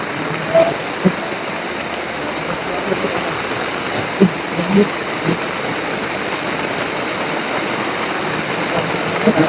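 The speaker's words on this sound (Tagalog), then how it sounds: "Mga tol, sobrang lakas ng ulan dito mga tol." Heavy rain pours down steadily in a broad, constant hiss, with occasional louder drops or thuds and faint voices now and then underneath.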